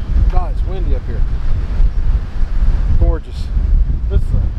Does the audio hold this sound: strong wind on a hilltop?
yes